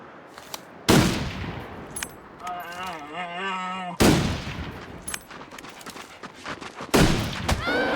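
In The Long Dark video game, three sharp, loud gunshots ring out about three seconds apart, with a rising mechanical whine between the first two and faint clicks and thumps around them.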